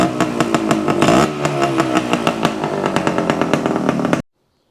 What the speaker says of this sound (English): We've got our idle approximately where it needs to be.